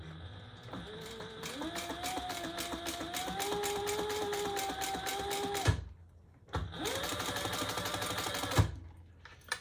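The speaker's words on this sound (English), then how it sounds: "Now we're going to stitch down the long edge on both sides." A sewing machine runs steadily while stitching down the long edges of a fabric traveler pouch, humming with a rapid, even needle rhythm. It stops briefly, then starts another shorter run, close and clear.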